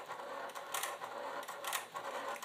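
A sewing machine top stitching black thread on quilted leather with a wrongly inserted bobbin, giving a quiet, uneven mechanical chatter with repeated louder bursts of stitching.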